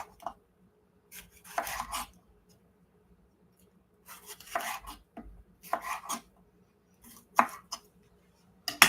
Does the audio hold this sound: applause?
no